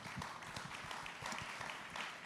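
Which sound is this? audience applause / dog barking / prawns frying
audience applause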